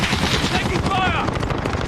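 Video game gunfire rattles off in a short, rapid burst, heard up close alongside a brief shouted voice.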